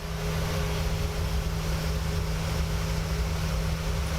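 A PMDG 737-900 airliner taking off in Microsoft Flight Simulator, a steady loud jet engine roar with a constant low hum and broad hiss, unbroken and without voices.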